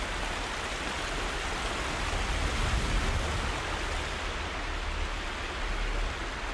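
Steady, dense rush of falling water from a waterfall in the video game Horizon Zero Dawn, a constant full-band roar with no talking, holding even throughout.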